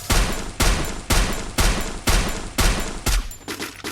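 Heavy bursts of AC80 gunfire in a video game, about seven loud, evenly spaced blasts with a sharp attack each half second and decaying tails, the last ones a little weaker and more ragged.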